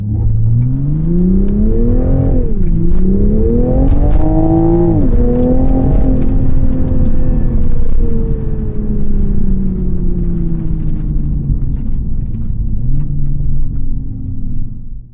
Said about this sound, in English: So we're gonna go drive the Supra.